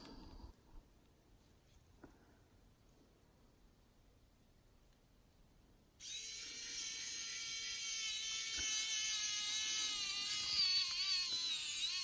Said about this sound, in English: And I'm pushing on the screw as it's going in.